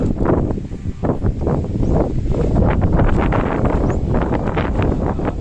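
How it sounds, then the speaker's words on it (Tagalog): Very strong wind gusting outdoors, roaring loudly and steadily into the microphone with buffeting surges throughout and no voices. "Oh, grabe hangin oh."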